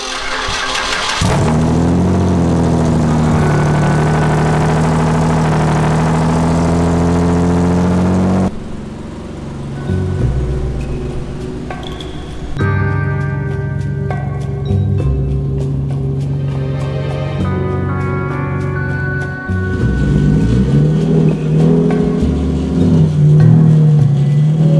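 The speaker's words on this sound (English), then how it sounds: "we're gonna go ahead and start the car and probably make a quick drive around" A car engine starts and warms up, a loud steady idle with shifts in pitch and revving across a long, continuous stretch, heard close with no talking.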